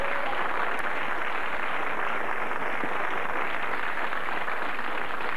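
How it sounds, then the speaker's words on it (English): Studio audience on a 1993 British TV game show applauding steadily, a dense, even wash of clapping that holds for several seconds with no break. "Give her a big round of applause."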